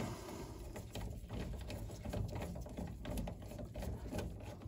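A ratchet working loose a 13mm rear brake caliper bolt on a Mazda MX-5 NC Mk3 Miata, a steady quiet clicking of the pawl running continuously and close by, with no talk.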